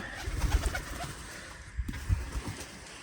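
Pigeons cooing softly inside an enclosed aviary covered with plastic and tarps, low murmuring coos coming in irregular bursts with faint background rustle.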